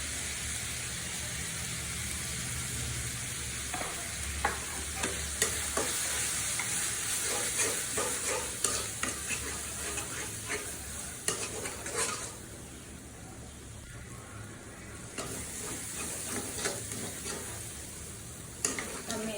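Turmeric and chili powder frying in a pan, with steady sizzling, frequent spatula scrapes and stirring clatter up close, then a quieter stretch of hiss.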